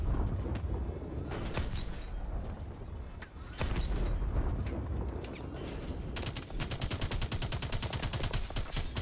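Heavy gunfire rages in a Call of Duty: Advanced Warfare firefight at a bio lab, with loud continuous bursts and a rapid machine-gun rattle taking over near the end.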